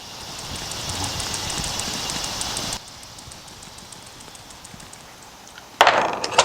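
A bearing rotated back and forth by hand while being checked, giving a rough, repetitive clicking rumble close by, with a louder burst near the end.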